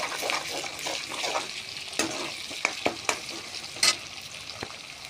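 Green chilli, ginger paste and garlic paste frying in a pan for a chicken curry, with a soft steady sizzle and several distinct spatula scrapes and taps against the metal.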